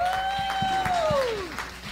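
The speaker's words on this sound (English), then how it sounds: "Let's give a round of applause for coming on to the choir, Sister Kadacia Pepper." A church congregation applauds in a sanctuary during a live service, scattered claps mixed with a sustained organ or keyboard chord that glides downward, crowd noise steady throughout.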